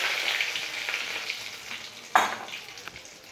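Cracked cardamom, cinnamon sticks and bay leaf sizzle in hot oil in a pan, a steady close hiss with one sharp crackling pop partway through.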